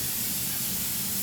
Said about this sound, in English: So I'm gonna spray my parchment.